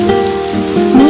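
Steady rain falls and patters on a surface, loud and close, with no voices over it.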